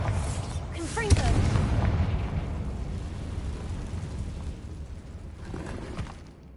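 Confringo fire spell from the Hogwarts Legacy video game on PS5, a fiery explosion that bursts loudly near the start and rumbles away over several seconds, with a second softer blast near the end and a voice shouting over it.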